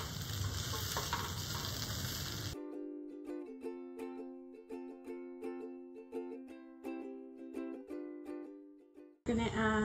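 Eggs frying in oil in a pan for a guajillo chile breakfast hiss with a close, crackling sizzle for a couple of seconds, then music takes over before the sizzle briefly returns at the end.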